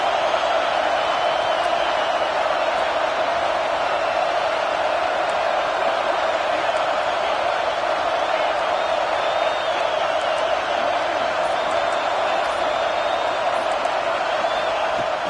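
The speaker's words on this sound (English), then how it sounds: "this crowd coming to life here trying to help the defense get a stop" A stadium crowd at a football game roars steadily as the home fans rally behind their defense on a key down, a dense, sustained wash of cheering that holds at full volume throughout with no break.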